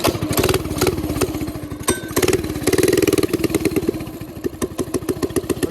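A small mini bike engine runs loud and close with the choke on, its rapid, pulsing chug rising and falling unevenly.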